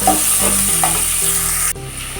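Chopped capsicum stir-frying in a pan, a steady close sizzle with a few spatula scrapes, easing off slightly near the end.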